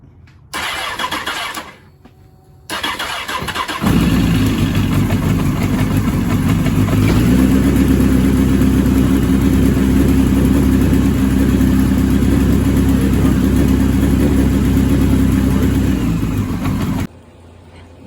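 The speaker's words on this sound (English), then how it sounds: "Start the engine." A Honda CBR 954RR motorcycle engine cranks briefly, catches and roars into a loud, steady idle that runs for over ten seconds before cutting off abruptly, with no voices over it.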